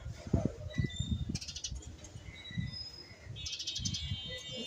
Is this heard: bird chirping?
yes